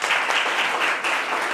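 A studio audience at a Christmas special television game show applauds steadily, a dense wash of clapping throughout the short burst.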